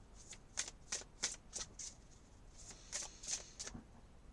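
Sacred Oracle of Feathers cards are shuffled in quiet, crisp riffling bursts, about ten short close-up flicks in an uneven rhythm, with no talk over them.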